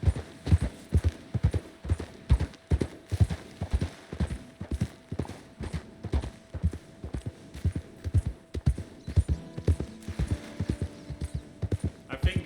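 Horse hooves clip-clopping in Red Dead Redemption 2, a steady, loud rhythm of sharp hoofbeats throughout with a faint hum behind them.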